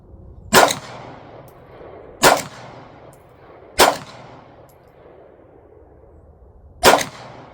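Four sharp, loud shots from a SIG P320 M18 pistol, spaced unevenly over several seconds, each a snappy crack with a short ringing decay and no talking.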